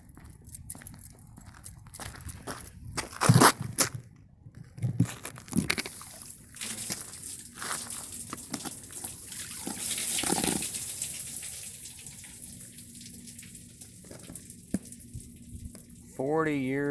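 Dirty water left from cleaning the seats of a 1977 Mercury is dumped out and drains away, heard as scattered splashes, pours and clunks at close range, with a brief squeaky sound near the end.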